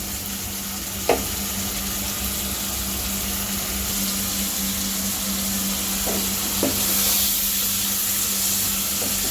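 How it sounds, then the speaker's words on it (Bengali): Shrimp frying lightly in a home pan with salt, cooked for a curry with taro root: a steady, close sizzle that holds throughout, broken by a few sharp clinks of stirring. "আর একটু হালকা ভাজা হোক"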